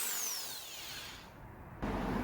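A Makita 1-inch SDS rotary hammer bores into soft cinder block, a steady close, loud hammering whir that runs continuously and swells sharply louder near the end.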